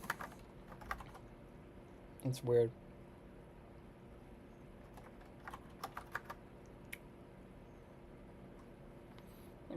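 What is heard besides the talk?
typing on a computer keyboard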